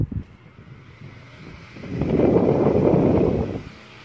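A 1936 Emerson Seabreeze oscillating fan with a one-speed 2-pole motor is switched on. A soft rushing whoosh of moving air swells after a couple of seconds and then fades again, close and fairly quiet.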